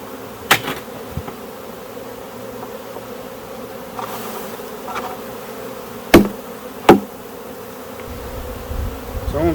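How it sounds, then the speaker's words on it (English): Honeybees in an open hive drone in a continuous close buzz while a beekeeper adds boxes and queen excluders, with a few sharp knocks and clunks of hive parts breaking through. "There's a lot of bees in there."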